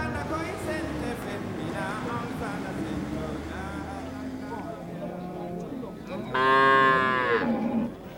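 Cattle in the farming country of central Mali moo with a long, loud, close call near the end, following a stretch of lower lowing and mixed herd sounds under a voice.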